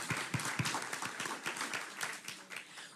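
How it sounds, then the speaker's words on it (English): Faint round of applause from a crowd at a City of Tampa Women's History Month celebration, a soft, steady patter of clapping heard from a distance, with a few sharper claps early on. "round of applause."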